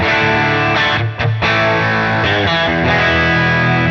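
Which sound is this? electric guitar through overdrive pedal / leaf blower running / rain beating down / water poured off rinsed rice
electric guitar through overdrive pedal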